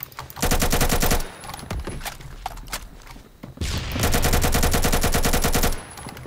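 An AK105 rifle converted to 5.56 fires in the game Phantom Forces, with two loud sustained bursts of rapid automatic gunfire separated by a quieter gap with scattered shots and movement.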